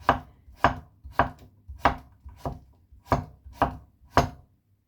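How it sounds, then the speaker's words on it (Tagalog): Knife chopping onion and tomato on a cutting board, eight evenly spaced sharp thuds close up, with no talking. "Kiwa ko ng sibuyas, kamatis, ito naman yan, kalabasin."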